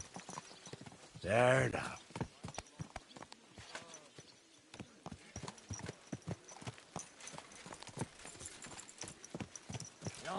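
Hooves clip-clop steadily as a horse is ridden in the medieval game Kingdom Come: Deliverance II, a close, regular walking gait broken early by a brief whinny, while someone speaks calmly over it.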